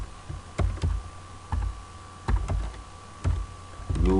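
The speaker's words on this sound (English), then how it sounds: "Let me see if I can type that in here." Computer keyboard typing comes in short clustered bursts of clicks, close and fairly loud, separated by brief pauses over a low background hum.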